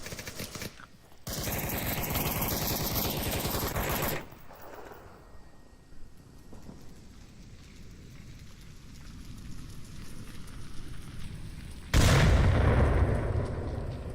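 Gunfire and grenade blasts in the VR shooter Onward during a competitive match, with dense rattling bursts early, a softer stretch of scattered distant shots, and a heavy booming burst near the end.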